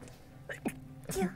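A single sharp sneeze bursts out at a tabletop Dungeons & Dragons session, close and fairly loud, set against quiet room noise and faint murmuring voices.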